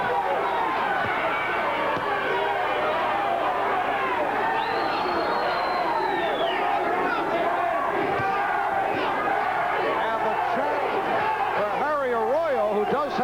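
Fight crowd at a boxing bout between Harry Arroyo and Charlie "Choo Choo" Brown, with relatives cheering Arroyo on, roars as a steady dense wash of voices throughout, with shouts rising out of it.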